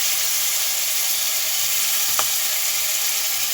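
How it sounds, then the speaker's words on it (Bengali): Green chillies sizzling steadily in hot oil before dried bean shutki goes into the pan, a constant hissing fry with one brief clink of a utensil midway. "কাঁচামরিচ দিয়ে একটুখানি ভেজে নিয়ে আমি সিমের শুটকি দিব।"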